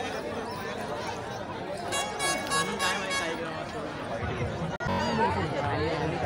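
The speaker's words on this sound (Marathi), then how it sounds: "आणि गर्दी यंदा कमी आहे आणि दर्शनाची लाईन आहे" Dense crowd chatter at the Ambikeshwar temple fair in Konkan, with a line of devotees and a naman theatre stage nearby; a steady, busy hubbub of many overlapping voices, with one brief dropout near the end.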